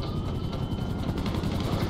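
Police helicopter in the video game Grand Theft Auto V, its rotor chopping in a steady, loud, close thrum that fills the full two seconds with no voices over it.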